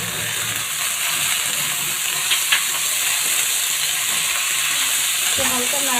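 Greens added to lightly fried potatoes in a pan set off a loud, continuous close sizzle and hiss, with a few soft stirring scrapes and no talk.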